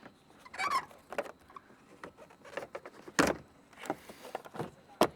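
A plastic trim clip being worked loose from a Subaru Outback headliner: a series of short clicks, scrapes and rustles in irregular bursts, with a sharp pop near the middle and another at the end, close up and fairly quiet.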